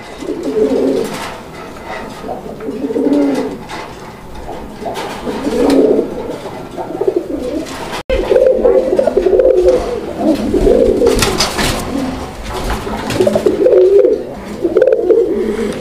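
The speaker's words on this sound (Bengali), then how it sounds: "আপনারা কবুতরের ডাক দেখেন" Pet pigeons, a coloured pair kept in a loft, coo in repeated low rolling phrases, loud and close, with a faint second bird overlapping and no talking.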